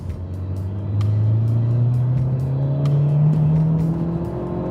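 Turbocharged engine of a 2017 Honda Civic Type R accelerating as boost builds to about 23 psi, a steady rising drone that climbs in pitch over several seconds, heard from inside the car.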